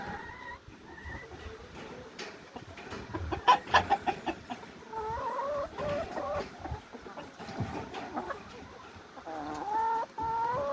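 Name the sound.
chickens clucking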